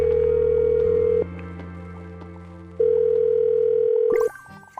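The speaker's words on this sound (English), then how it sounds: "I'm going to dial her phone number right now" A telephone line gives a steady, loud dial tone that holds in long sustained stretches, broken by a brief dip and shift as dialing begins, then cuts off near the end with a short burst of other sound.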